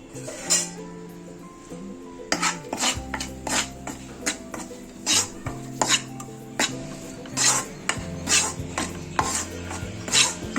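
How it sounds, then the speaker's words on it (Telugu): Gram flour frying and being stirred in a kadai, a spoon scraping and knocking against the metal pan in repeated close strokes over a faint background hiss. "పచ్చివాసన పోయే వరకు శనగపిండిని మనము దీంట్లో ఫ్రై చేసేసుకోవాలి"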